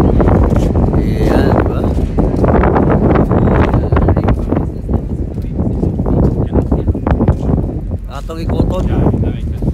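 Strong, constant wind aboard a BC Ferries ship buffeting the microphone with a low roar throughout, while people talk over it.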